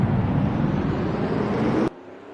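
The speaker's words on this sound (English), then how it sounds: "Drivers, start your engines." Race car engines in eNASCAR Heat at Daytona roar together as a loud, steady, broadband drone from a full field of cars, holding constant before cutting off abruptly near the end.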